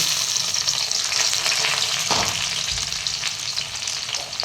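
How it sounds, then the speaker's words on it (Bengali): Chopped garlic fries in white oil in a wok, making a loud, continuous, close sizzle with light spatula scraping and no voices. "কড়াইয়ে আমার উপযুক্ত পরিমাণে সাদা তেল আছে এরপর আমি এর মধ্যে রসুন কুচি দিয়ে দিচ্ছি"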